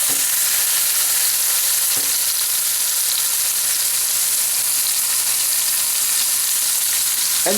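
A grilled cheese sandwich on homemade Italian bread cooks in a pan with a constant, loud, even frying sizzle that runs the whole length, with only a couple of small clicks breaking it.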